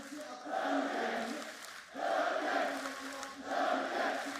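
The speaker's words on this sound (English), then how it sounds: "Crowd erupts as support comes through for Durka" Esports arena crowd at a VCT Champions Istanbul 2022 Valorant match between DRX and Fnatic, swelling in loud sustained cheering that surges in repeated waves, with no speech over it.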